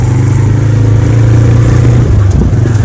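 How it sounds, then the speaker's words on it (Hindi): A motorcycle engine running loudly and close on a flooded village road, a steady low rumble with a slight change in pitch near the end. "और चच्चा चला रहा है मोटरसाइकिल।"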